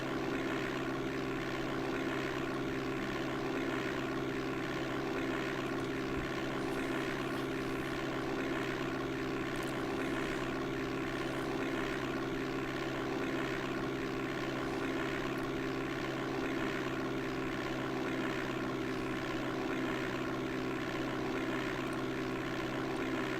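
Steady drone of a propeller airplane engine in low cruising flight in DOS Flight Simulator 5.1, a constant, unbroken synthesized hum with no pauses or talk.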